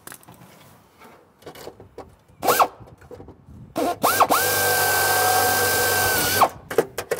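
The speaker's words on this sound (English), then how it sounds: "we've got all the holes drilled" A power drill bores holes into an aircraft door, with short bursts of the motor spinning up and then one long sustained whine, along with handling clatter and clicks between runs.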